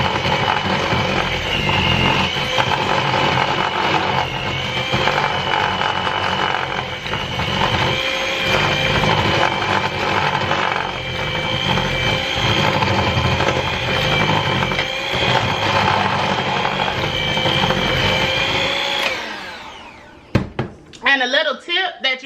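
An electric mixer whirs steadily through a sweet potato casserole mixture for about twenty seconds, a loud continuous motor drone that cuts off near the end, followed by a few clattering knocks.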